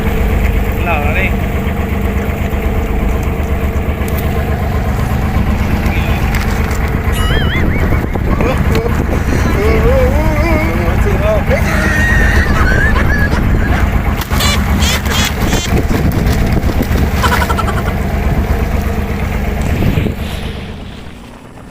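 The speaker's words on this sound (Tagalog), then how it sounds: "bumilis na ang ating biyahe dahil dalawa lang makina ang ating gamit dito kahit palusong tayo" Fishing boat at sea powered by two engines, a steady loud low rumble throughout with wind and splashing water, voices talking faintly over it at times.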